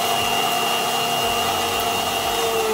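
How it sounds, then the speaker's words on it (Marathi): A mixer grinder whirs continuously and loudly while grinding a paste of garlic, coconut, onion, tomato, ginger and coriander, a steady motor drone with no pauses or talk. "मिक्सरमध्ये छान वाटून घेतलं।"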